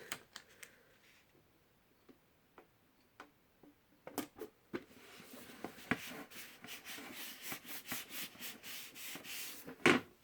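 Wall sticker being rubbed flat against a wall: quiet scattered taps and scratchy rubbing strokes, growing busier and more continuous in the second half, with a louder knock near the end.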